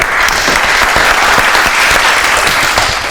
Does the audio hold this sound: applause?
yes